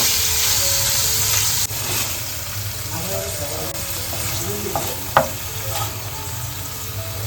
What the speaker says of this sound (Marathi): आता ना आपण पनीर फ्राय करून घेतोय.